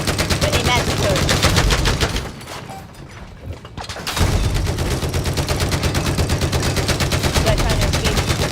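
Mounted machine gun of an M1 Abrams tank firing in Battlefield 4, loud, rapid and sustained, cutting out for about two seconds mid-stretch before resuming just as hard.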